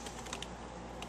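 Light typing on a computer keyboard, a few scattered soft clicks over a steady, faint background hiss.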